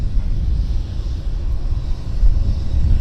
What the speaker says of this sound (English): Another Bizjet.